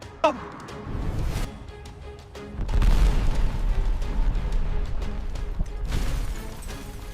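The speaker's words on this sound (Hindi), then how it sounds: "ये जो सामने पंप नजर आ रहा है ना, इसको भी उड़ा दे" A petrol pump and a hotel are blown up, with a sharp blast near the start followed by heavy, sustained rumbling booms and crashing debris that stay loud throughout.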